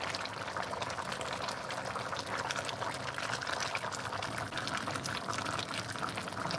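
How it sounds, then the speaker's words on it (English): A pot of water on a stove on high heat bubbles and churns in a continuous rolling boil, steady and close, with no voices. "I got it on high so I can get these boiling like they should"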